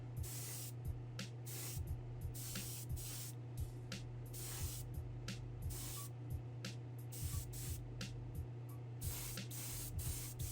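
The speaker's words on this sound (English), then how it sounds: "you want to be kind of wide open on your airbrush and do it in one pass if you can" An airbrush sprays liquid chrome paint onto a crusty diecast Hot Wheels GTX during restoration. A steady airy hiss runs with a constant compressor hum beneath it, and the trigger breaks the spray into many short bursts across the clip.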